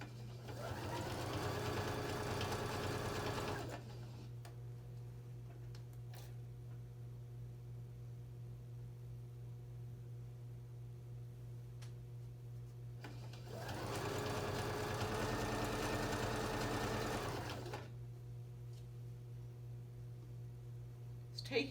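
A sewing machine runs a pillowcase seam in two steady, loud bursts of fast stitching with a low motor hum, separated by a long quieter stretch of faint hum.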